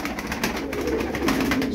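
Cincik tumbler pigeons coo in soft, continuous murmuring from close by, with no voices over them.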